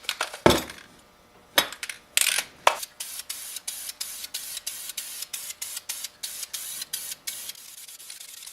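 Spray paint hisses in short bursts onto plastic motion duck decoys, a series of roughly evenly spaced close hissing sprays with a few longer bursts early on.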